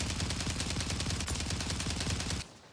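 Rapid automatic gunfire from a Warzone match, a dense continuous burst of loud shots that stops abruptly near the end.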